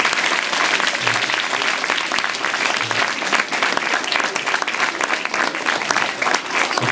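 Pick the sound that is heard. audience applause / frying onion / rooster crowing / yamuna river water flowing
audience applause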